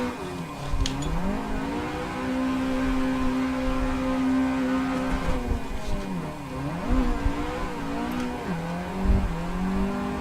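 Drifting race car in the Assetto Corsa driving game, its engine holding a high sustained note while tires squeal through long slides, the pitch dipping and rising as the throttle is feathered.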